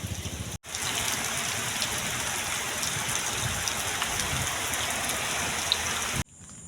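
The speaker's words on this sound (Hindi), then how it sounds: "दोस्तों आज बहुत तेज़ की बारिश पड़ रही है।" Heavy rain falls hard in a garden, a loud, even, continuous hiss of drops on surfaces that starts and stops abruptly.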